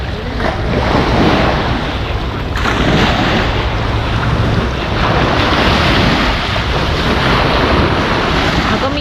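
Heavy, constant roar of storm wind, rain and crashing waves at sea aboard a boat, loud and close, with gusting noise battering the microphone throughout.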